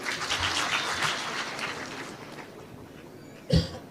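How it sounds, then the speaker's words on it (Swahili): Crowd applause at a burial service in Embu, a broad rustle of clapping that is strongest at the start and fades over a few seconds, with a brief louder thump near the end. "Makofi."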